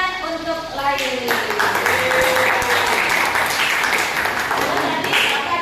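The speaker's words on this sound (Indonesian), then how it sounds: "Tepuk tangan untuk Laili" A classroom of students claps for a classmate, a dense burst of hand claps rising after the first second and sustained throughout, with a teacher's voice audible over the start.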